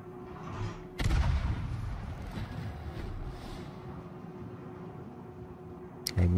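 A naval gun from a World of Warships battle booms with one heavy, loud shot, then rumbles and fades, and a second sharp report comes near the end.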